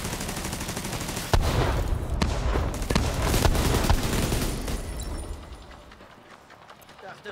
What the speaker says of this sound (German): Ey, ein Schuss!